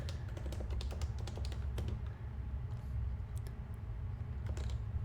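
Someone types on a computer keyboard, producing irregular bursts of light clicking key taps with short pauses, fairly faint against a low steady background hum, with no talking.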